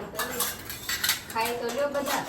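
Metal cutlery and dishes clink and rattle as they are set out in a home kitchen, a steady run of close, bright knocks and scrapes with no voices.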